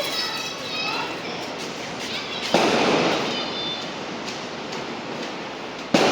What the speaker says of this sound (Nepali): यहाँ चाहिँ पटेका पड्काउँदैछ